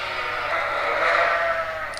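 Sheep bleating inside a large farm pen holding a big flock, a steady wavering chorus of bleats that stays loud and close for the whole stretch, with no talk.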